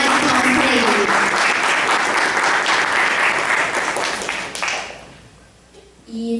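Audience applause at a televised Brazilian political discussion event, dense steady clapping from a studio crowd for several seconds before fading out near the end.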